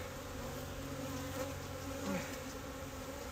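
Honey bees buzz softly and continuously around an open hive during a winter inspection, a faint steady drone with a few louder passes close by.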